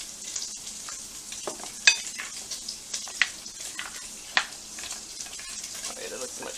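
Oil sizzling and crackling steadily in a pan while frying keto soul food coated in almond flour, with sharper pops and spatters over a continuous hiss, close by.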